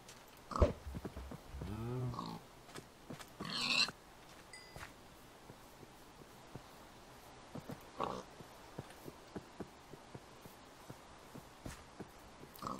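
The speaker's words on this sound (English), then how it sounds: "No, don't go in the water, piggy." A pig oinks in Minecraft's Better Than Wolves mod, with a few short grunting squeals early on. They are followed by sparse, quiet clicks and footsteps over a low ambient hush.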